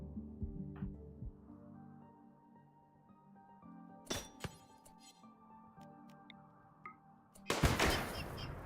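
RimWorld gunfire in a Scorcher and Cyclops battle: a few sharp, clattering bursts of shots over a quiet game background, with brief clinking ticks between volleys.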